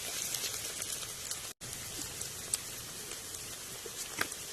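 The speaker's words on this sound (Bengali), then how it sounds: "পেঁয়াজটাকে ভালো করে ভেজে নেব" Chopped onions fry in mustard oil inside a pressure cooker, giving a steady, quiet crackling sizzle with small pops throughout and no talking.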